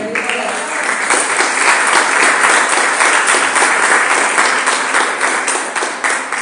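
A church congregation breaks into loud, sustained applause for the Lord at a Bible question-and-answer service, dense clapping holding steady for several seconds, with voices calling out beneath it.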